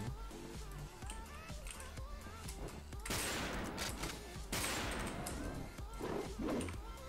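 Bursts of video game gunfire in a first-person shooter, with sustained loud volleys around the middle and end over a busy, continuous game soundscape.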